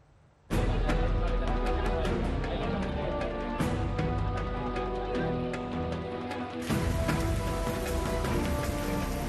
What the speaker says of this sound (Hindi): मूसलाधार बरसात से नदी उफान पर है